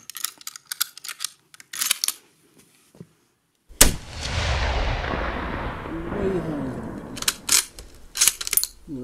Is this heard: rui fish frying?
no